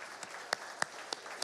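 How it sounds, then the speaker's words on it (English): Scattered, faint claps from a small audience at a family camp session, only a handful of separate hand claps spaced out over a second and a half with no voices. "let's give Danny another round of applause, shall we?"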